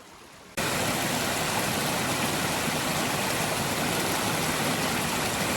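A camping stove roars steadily outdoors at a winter hammock camp, heating water to a boil; a loud, continuous broadband hiss starts abruptly and holds without pause, with no talk.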